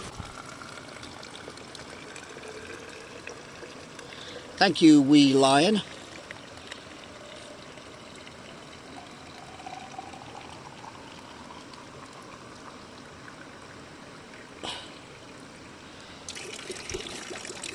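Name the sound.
water trickling from a well spout into a water bottle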